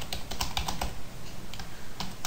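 Someone types on a computer keyboard while writing PHP code. The keys click in quick irregular bursts, close and clear, with short pauses between runs and no talking.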